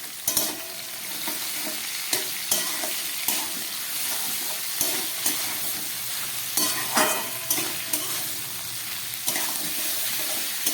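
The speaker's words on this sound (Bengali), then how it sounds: "নুন দিয়ে আর আদা বাটা দিয়ে আমার সবজিটা ভাজা হয়ে গেল" Vegetables for shukto frying in a pan with salt and ginger paste, a steady sizzle broken by regular scraping stirs of a spatula, close and clear, with no talking.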